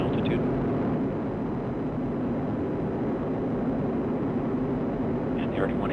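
A steady, dense roar from an Atlas V rocket's RD-180 engine during launch and climb is heard from a distance and holds without a break for the whole stretch.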